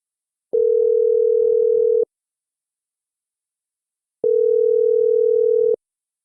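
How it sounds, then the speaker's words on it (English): A simulated telephone call produces a steady electronic tone in two loud, even bursts of about a second and a half each, separated by silence. "How about we simulate that phone call from Zana to her father"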